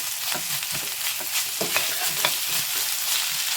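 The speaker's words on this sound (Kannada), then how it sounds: "ಈಗ ಇದನ್ನು ಕೂಡ ಸ್ವಲ್ಪ ಫ್ರೈ ಮಾಡ್ಕೊಳ್ಳಿ" Grated potato frying in a pan for fried rice, a steady close sizzle with light stirring scrapes running throughout.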